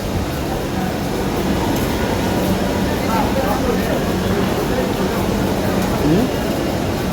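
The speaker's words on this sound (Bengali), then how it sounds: "ট্রেন তো ভিডিও করছি" A Dhaka metro train at a station gives a steady, loud rumbling hum that runs throughout, with voices murmuring underneath.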